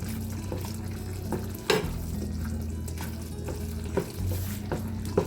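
Chickpea curry is stirred in a pan: close spoon scrapes and clacks repeat over a steady sizzling fry, with no talking.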